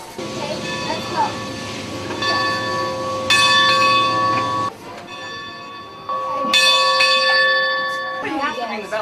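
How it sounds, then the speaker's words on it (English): A train bell at a transportation museum in St. Louis rings in loud, repeated metallic clangs with a long, bright, ringing tail, sounding in bursts separated by short pauses. "But you have to ring the bell."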